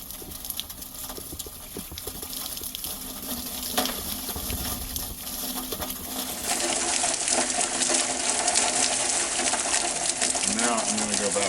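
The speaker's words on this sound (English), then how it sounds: "I'm gonna first of all, wash that debris out." Water from a hose rushes into a water barrel, flushing out debris: a steady broadband wash that swells noticeably louder and fuller about halfway through and stays strong to the end.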